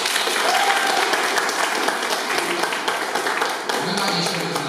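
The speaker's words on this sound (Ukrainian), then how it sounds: "Оплески!" Broad audience applause fills the room at a school graduation and TV channel launch, a dense, sustained patter of many hands, loud and continuous, with a few faint voices and whoops mixed in.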